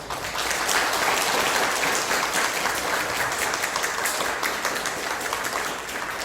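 A church congregation applauds as a missionary serving in the Philippines comes forward, with dense, sustained clapping throughout that tapers slightly near the end.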